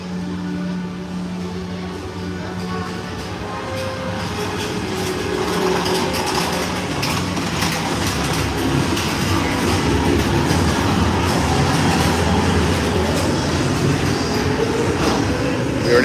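A dark indoor ride vehicle, Space Mountain at Magic Kingdom, rumbles and rattles along its track with a steady roar that grows louder partway through, while faint voices sit under the noise.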